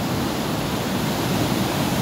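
Giant sea waves pound a beach resort in a steady, loud, unbroken roar of crashing surf and churning water, with no voices over it.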